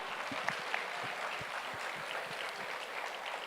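A church congregation applauds during a Portuguese-language worship service, steady light clapping spread evenly throughout, moderately distant and without speech over it.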